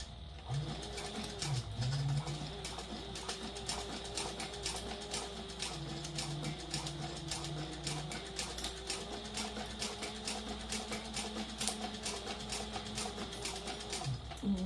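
A sewing machine stitching a satchel handbag, running in a steady rapid mechanical rhythm of needle strikes with a faint motor whine, moderately quiet and continuous throughout.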